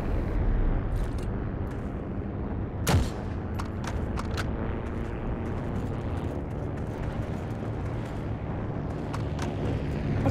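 Gunfire aimed at a tank during a Heroes and Generals match, heard as a dense, steady rumble of battle noise with sharp shot cracks scattered throughout and one louder blast near the start.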